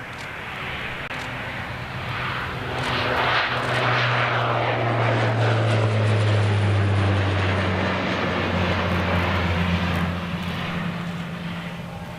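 An Airbus A380 jet airliner passes overhead as a loud, sustained roar that builds over a few seconds, holds a deep droning engine tone through the middle, and slowly fades, with no voices.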